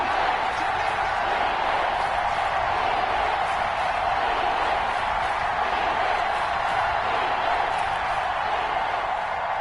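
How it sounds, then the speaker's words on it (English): A football stadium crowd roars steadily during an NFL game between Indianapolis and the Texans, building ahead of a big third down, a dense continuous wash of cheering and noise with no breaks. "the crowd getting into it as we come up on a big third down"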